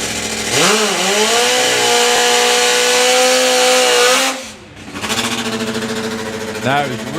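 A harsh, loud four-cylinder drag racing bike engine blares at high revs for several seconds at a drag racing event, drops away, then barks back in rough bursts.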